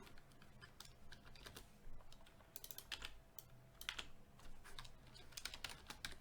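Rapid typing on a computer keyboard while entering code, with irregular bursts of crisp key clicks and short pauses, close and fairly quiet, no voices.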